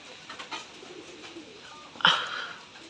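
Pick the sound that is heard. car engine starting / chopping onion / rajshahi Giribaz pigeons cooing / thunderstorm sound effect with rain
rajshahi Giribaz pigeons cooing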